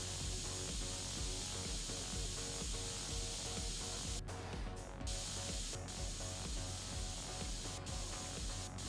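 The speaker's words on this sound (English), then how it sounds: "just spraying directly into the USB ports" A continuous aerosol-style spray hisses steadily into the USB ports of a PC case in the PC Building Simulator 2 game, a dense, close, unbroken rush with a few brief dips.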